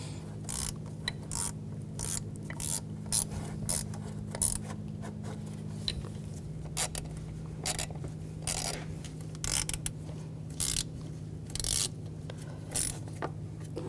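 A ratchet tightens the bolts on the EGR valve of a 2011-2018 Volkswagen Jetta 2.0L TDI, giving short bursts of crisp clicking with pauses between them over a steady low hum, close and moderately loud.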